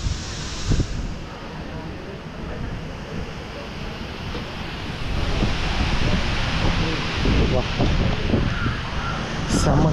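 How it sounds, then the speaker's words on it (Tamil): Strong wind roars across a hilltop temple in Kandy, blustering into the microphone as a dense, loud rumble that builds midway, with drizzle and a voice speaking through it. "செம்ம காற்றடிக்குதுங்க."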